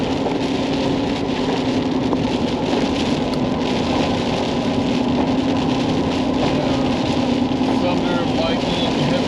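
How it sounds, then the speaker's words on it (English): Heavy rain pours down at Big Fir Campground on Lake Ouachita, Arkansas, during a thunderstorm with strong wind, a dense, loud, unbroken roar of drumming water with a steady low rumble beneath. "Thunder, lightning, heavy rain, heavy wind."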